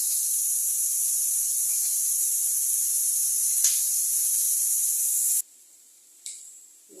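Onions sauté with salt in a pan, giving a steady loud sizzle and hiss that cuts off abruptly toward the end, followed by a brief fainter sizzle and faint clatter.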